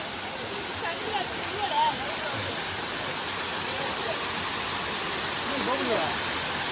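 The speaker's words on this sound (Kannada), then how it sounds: "ಎಳ್ನೀರ್ ಫಾಲ್ಸ್ ನೋಡಿ ಅಲ್ಲಿ ಕಾಣಿಸ್ತಾ ಉಂಟಲ್ಲ" Elneer Falls in Belthangady taluk, swollen with muddy early-rain water, roars as a steady broadband rush seen from a distance, with voices faintly audible beneath.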